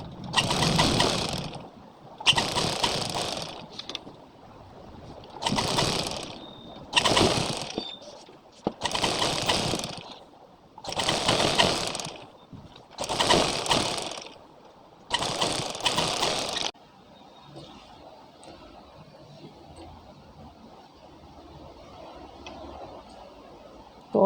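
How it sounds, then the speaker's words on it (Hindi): Sewing machine running top stitching on a suit, in about eight loud bursts of rapid mechanical stitching separated by short pauses, then a quieter stretch of faint handling noise. "ये सिलाई हमें टॉप सिलाई लगानी है"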